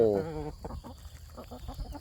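Domestic chickens raised for meat on a Thai farm, including a large local breed, cluck in short broken bursts close by, after one loud harmonic call at the start, over a low rumbling background.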